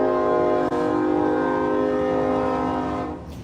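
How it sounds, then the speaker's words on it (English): A train horn blares as a train passes by, a loud sustained chord close to the listener that holds for about three seconds before cutting off, with rail rumble underneath. "Y'all hold on, y'all let the train go by."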